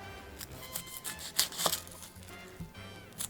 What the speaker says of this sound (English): We're going to be cutting up some vegetables here to add to our ham and bean soup.